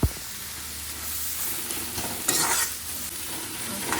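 Spinach sabzi seasoned only with salt sizzles and hisses steadily in a pan as it is stirred, with scraping strokes close by and a sharper burst of sizzle midway.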